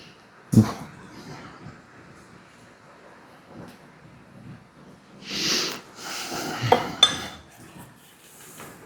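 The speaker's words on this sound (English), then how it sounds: "Now I think I will take a knife and swirl this a little bit." Metal knife scraping and clinking against a baking pan while swirling cinnamon sugar through bread batter, with sparse taps and a louder scraping stretch near the end, close by.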